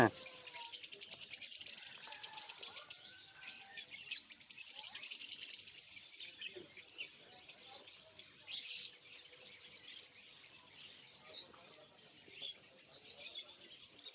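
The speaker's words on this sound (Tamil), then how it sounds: "இது என்ன குருவிங்க" Small birds chirp and twitter in a busy, high-pitched chorus, fairly faint and continuous, with a soft background hum, at Souq Waqif market in Qatar.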